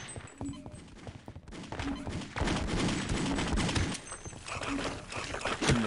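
Rapid pistol gunfire in the Opposing Force multiplayer game, with dense bursts of sharp shots coming in clusters, loud and close, mixed with game effects.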